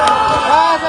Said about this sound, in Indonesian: Sorakan Presiden menggema saat pidato kemenangan.